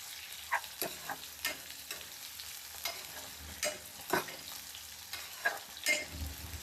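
Sliced onion sautés with mushrooms in a pan, a steady low sizzle broken by stirring scrapes that land roughly once a second, close and alone with no voices.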